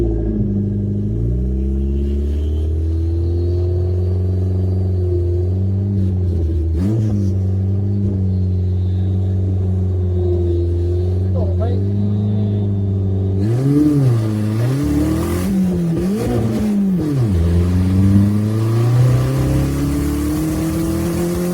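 Custom-built 4x4 Vauxhall Nova with a misfiring engine revving hard on a test run, a loud close drone rising and falling in repeated surges, climbing sharply near the end.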